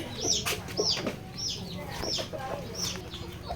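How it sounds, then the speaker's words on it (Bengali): Layer hens cluck on a poultry farm, giving repeated short calls at a steady pace over a busy background of more birds. "আর এখানে লেয়ার মুরগি রয়েছে"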